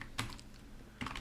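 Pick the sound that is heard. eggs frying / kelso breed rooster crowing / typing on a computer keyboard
typing on a computer keyboard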